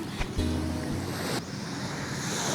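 Sea waves wash onto a shore in a typhoon-hit coastal town, a steady broadband surf rush with gusty wind noise buffeting the microphone and a few brief thumps.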